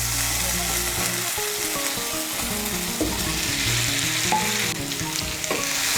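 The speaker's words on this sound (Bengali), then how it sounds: "এঁচোড় আর আলুটাকে ভালো করে মিশিয়ে নেব মশলার সঙ্গে।" Jackfruit and potato frying in spice masala give a loud, continuous sizzle close by, with stirring scrapes throughout and no voices.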